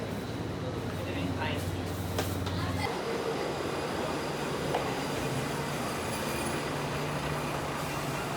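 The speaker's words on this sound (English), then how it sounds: "We decided to take a local train back to where we were staying instead of walking" A local train in Japan rumbles along in a steady, continuous rolling drone, with a low hum that shifts partway through and faint rattles and creaks over the top, a voice briefly audible early on.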